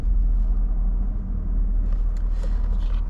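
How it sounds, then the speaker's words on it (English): A manual-transmission car engine rumbles low and steady at close range as the clutch is slowly let out, a deep, even drone with little change in pitch. "You will slowly let out on the clutch, apply some gas."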